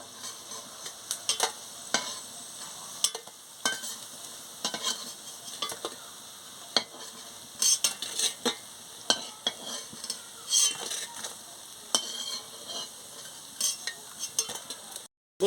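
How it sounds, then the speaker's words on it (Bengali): Coriander leaf fritters fry in hot oil with a continuous close sizzle, punctuated by frequent clinks and scrapes of a spatula stirring and turning them in the pan. "দেখুন বন্ধুরা, ভালো করে ভেজে নিচ্ছি।"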